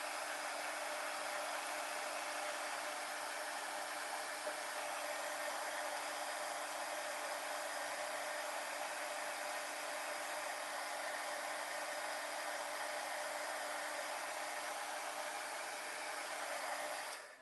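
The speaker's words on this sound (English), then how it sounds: "Okay, now we'll heat set these really quick." A heat tool for embossing blows steadily on a card at its heat setting, giving a loud, unbroken whooshing roar with a faint motor hum that holds for about seventeen seconds before cutting off at the end, with no talk.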